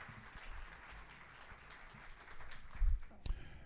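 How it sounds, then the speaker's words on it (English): An audience at a city visioning presentation claps for the staff, a fairly quiet, diffuse patter of applause in a room, with a few low thumps and a sharper knock near the end. "Let's give our staff another round of applause for a great presentation."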